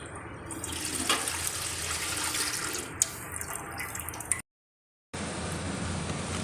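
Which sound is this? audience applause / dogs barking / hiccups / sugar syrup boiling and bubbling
sugar syrup boiling and bubbling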